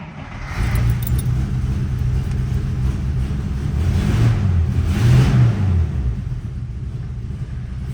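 A 1954 Pontiac Chieftain engine turns over and settles into a steady, close, low rumbling idle, with a light jangle of keys near the beginning.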